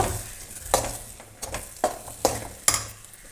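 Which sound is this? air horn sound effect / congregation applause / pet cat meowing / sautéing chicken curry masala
sautéing chicken curry masala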